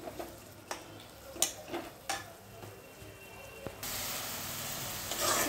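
A spoon scrapes and taps in a pan while broad bean curry (chikkudi kaaya) is stirred and mixed, with soft sizzling underneath and a few sharper clicks, ending in a louder hiss of frying.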